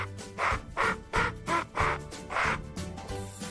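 A duck quacks repeatedly in a quick, even rhythm, with about half a dozen loud, nasal quacks in a row, set in a children's alphabet phonics song.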